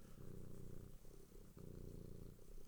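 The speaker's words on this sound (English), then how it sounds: "people can hear your purring on camera because you're very," A house cat purrs loudly and close, a steady low rumbling pulse with two brief breaks as it draws breath, alone with no talk.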